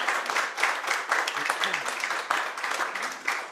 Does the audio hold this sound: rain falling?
no